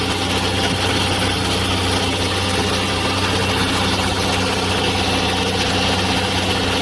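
An old 1950s generator engine runs continuously, a loud close drone with a steady low throb and mechanical rattle and no change in pace throughout.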